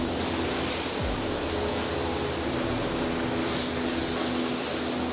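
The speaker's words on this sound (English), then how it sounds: "With this base coat, you really got to spray it wet" A Fujispray V8 spray gun lays down a wet base coat, giving a steady close hiss of atomised paint and air that runs continuously with slight swells, and no one talking.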